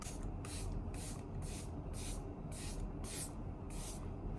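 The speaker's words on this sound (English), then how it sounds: "we can go in with more of this setting spray right here" Makeup setting spray hisses in about nine quick, evenly spaced pumps, close to the ear, with no one talking.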